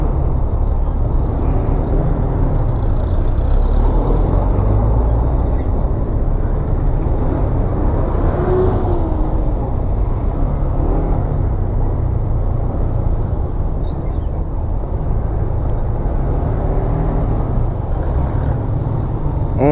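Slow road traffic held up by roadworks on a Sunday on the way to Baguio, heard as a steady low engine rumble with continuous wind buffeting, no clear breaks throughout.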